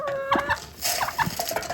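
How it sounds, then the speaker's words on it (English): Chickens on a Costa Rica ranch cluck steadily at feeding time, several birds making close, overlapping short clucks and calls. "Here you go, chickens. I got your food."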